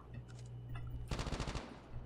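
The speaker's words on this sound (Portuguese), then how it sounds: "Tem alguém me atirando lá de cima, gente." Gunfire in the Call of Duty Mobile battle royale: a rapid automatic burst of close shots rattles out after a steady low engine-like hum, with a few fainter pops earlier, fairly quiet overall.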